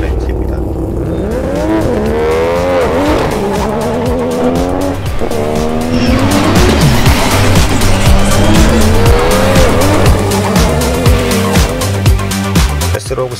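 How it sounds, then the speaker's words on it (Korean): Mazda RX-7 drifting from the start line, engine roaring loud and close as the tires squeal in long wavering skids, the pitch rising and falling throughout. "RX7 드리프트 촬영을 위해 출발선에 대기합니다."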